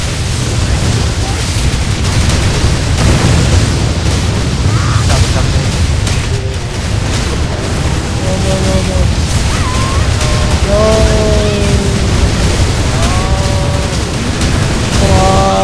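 Cannon fire and explosions in the Dragon Nest online game, a dense, loud barrage of booms running throughout under a player's excited talk, with tonal game effects rising in the second half.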